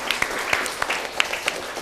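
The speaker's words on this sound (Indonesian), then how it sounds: "tepuk tangan untuk musik kita." Scattered applause breaks out for the band on a televised Indonesian talk show, with sharp, uneven claps from a modest audience over a brief span.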